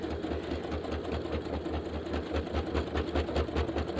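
A home sewing machine stitches an appliqué on a quilt block, a steady rapid mechanical whirring with a regular needle rhythm, close and continuous throughout.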